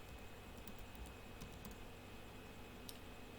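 Keys on a computer keyboard are tapped in a short irregular burst of soft clicks, then a lone click near the end, faint and close over a low steady hum, with no talking.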